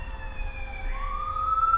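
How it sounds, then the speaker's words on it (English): Emergency vehicle siren wailing from the street near a fire department, a rising and falling tone heard faintly from a distance over low traffic rumble. "you're going to hear me talk about the sirens. We're right by the fire department"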